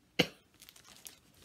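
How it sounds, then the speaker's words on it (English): A single sharp cough bursts out close to the microphone, followed by faint crinkling paper and small handling sounds in a quiet craft room. "You know, I cannot get rid of this cough."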